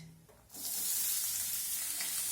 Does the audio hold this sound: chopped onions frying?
yes